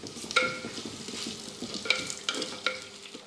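Onions sizzle gently with cinnamon and cloves in a clay pot, a steady soft frying hiss broken by a few sharp clinks of a spoon stirring against the pot.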